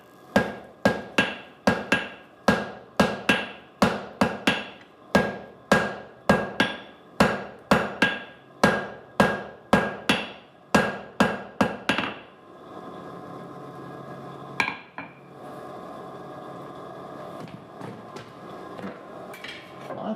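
Hammer blows on hot steel being forge welded: about two dozen loud, ringing metallic strikes in a steady rhythm for twelve seconds, then a quieter stretch of low workshop noise with a single louder clank.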